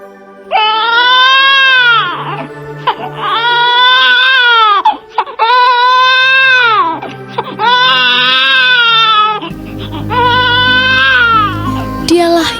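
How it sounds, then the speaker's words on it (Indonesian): A newborn baby cries loudly and close, in five long, wailing bursts with short gaps between them, as part of a staged Nativity story of Jesus' birth. "terdengarlah suara tangis seorang bayi lahir"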